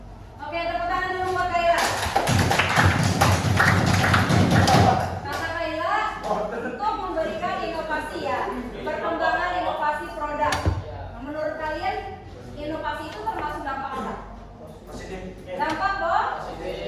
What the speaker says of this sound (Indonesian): tepuk tangan dulu buat Kayla